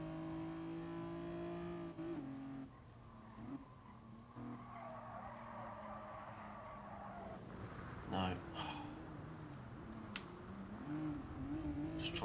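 A Renault Clio Sport race car in GT Sport revs and shifts with a steady, buzzing engine note, tires squealing and skidding in short bursts while someone talks over it.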